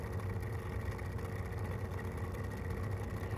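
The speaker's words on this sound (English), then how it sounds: "it does scrape a lot, but it does have a bit of almost like, actually a bit of like an engine sound to it because of that joint" A 3D-printed model of a Chrysler siren runs with a steady engine-like drone, and its dog-bone joint makes a constant scraping rattle; the sound is close and even throughout, with no talking.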